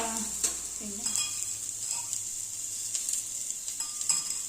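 Onion and garlic frying in a pan for a sprouted moong sambar, a steady close sizzle with a few scrapes of stirring across the stretch and no talk.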